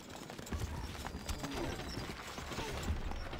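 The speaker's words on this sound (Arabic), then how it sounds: "خيولنا جاهزة." Faint hoofbeats clop irregularly in Stronghold Crusader, with galloping horses amid background game noise, quiet and somewhat distant.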